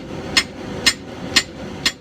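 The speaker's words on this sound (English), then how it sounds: "Just bang the drift in one last time from each side where it needs to go" A hammer strikes a steel drift set in the eye of a hand-forged 3-pound straight peen hammer, four sharp ringing blows evenly spaced about half a second apart over a low steady background hum.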